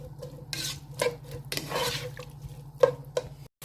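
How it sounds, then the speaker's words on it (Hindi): Onions frying in a pan with scraping stirs and a few light metallic clinks of a spoon against the pot, fairly close. "हम अपने प्याज को फ्राई करते हैं।"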